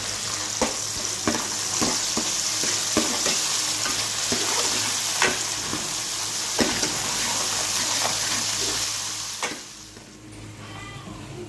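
Ginger garlic paste and tomatoes fry in a pan with a continuous loud sizzle, broken by repeated scrapes and taps of a stirring spoon, then the sizzle drops off near the end.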